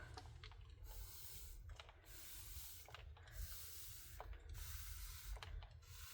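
Repeated short bursts of a spray bottle spraying water onto a watercolor paint set, roughly one squirt per second, each a brief hissing spritz over a low background hum.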